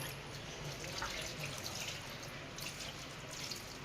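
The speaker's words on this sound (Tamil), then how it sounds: "ஒரு ரெண்டு கப் தண்ணி சேர்த்துக்கோங்க" Water splashes and trickles steadily into a cooking pot of tomatoes for gongura pappu, a continuous wet pouring sound with small drips, fairly quiet and without any voices.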